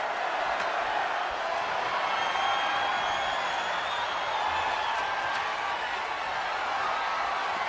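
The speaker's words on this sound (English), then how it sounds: "Crowd's chanting one more time" An arena crowd in a WWE 2K26 wrestling match roars in a steady, dense wash of chanting and cheering, broad and distant-sounding, with no pauses.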